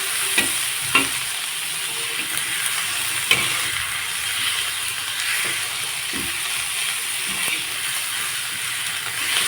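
Green chilli, coriander stems and garlic sizzle steadily in hot oil for a spicy paneer bhaji, with occasional sharp clicks and scrapes of a spoon stirring the pan and no talking.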